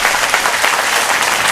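A church congregation claps loudly and continuously in praise of God, forming a dense, close burst of applause.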